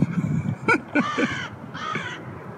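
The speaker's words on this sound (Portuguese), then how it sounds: "É cheio de corvo aqui." Several crows caw by a cold river, a few loud, close harsh calls in separate bursts with a pause between them, over low outdoor rumble.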